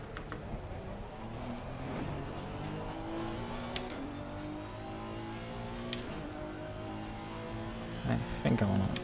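Honda NSX race car engine in Assetto Corsa Competizione at Bathurst, a steady droning engine note rising and falling through gear changes, heard from inside the car under a speaking voice.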